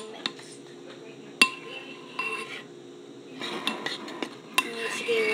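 A utensil stirs a slime mixture in a bowl with scattered clinks and scrapes against the sides, some sharp taps standing out, and a voice talks briefly.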